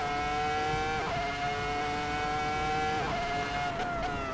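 A Ferrari race car in Assetto Corsa holds a high, steady engine whine, with brief pitch dips at gear shifts as it overtakes, loud and continuous.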